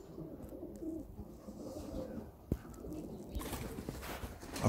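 Vouta pigeons cooing outdoors, soft low coos repeating over a steady background, with a brief thump partway through and no talking.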